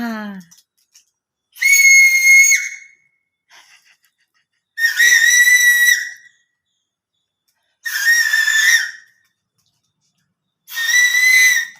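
Four loud, shrill whistle blasts, each lasting about a second, evenly spaced with silent gaps between them.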